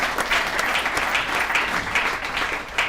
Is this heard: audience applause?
yes